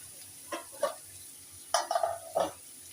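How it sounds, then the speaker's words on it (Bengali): Onion stirred as it fries in a pan: a few scraping, clattering strokes in short bursts over a faint, steady sizzle, close by, with no talking. "পেঁয়াজটা যতক্ষণ না লাল হচ্ছে ততক্ষণ তুমি নাড়তে থাকো।"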